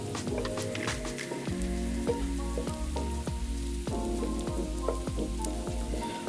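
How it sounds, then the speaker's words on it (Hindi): Masala of salt, turmeric, red chilli and garam masala sizzles steadily in a pan for arbi aloo fry, a close, continuous crackling fry with occasional soft stirring clicks. "इसको अच्छी तरह से भून के हम इसका मसाला तैयार कर लेंगे।"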